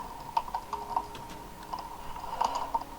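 Quick, irregular clicks of computer keyboard keys typing a Minecraft command, close and fairly quiet with no talking.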